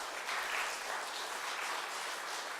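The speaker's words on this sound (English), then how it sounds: "So can we give them all a great round of applause?" An audience at a veterans conference in a First Baptist Church hall in Crossville, Tennessee, applauding VA staff; an even, fairly distant wash of many clapping hands, quiet and unbroken from start to finish.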